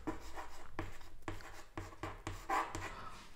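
Chalk or marker writing on a board during a physics lecture, a series of short scratchy strokes with brief pauses between them, close and fairly quiet.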